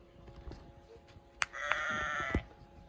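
Lamb bleating from a push-button sound in a children's interactive farm book, a single electronic baa of about a second, moderately loud over quiet room tone, with a few soft clicks before it.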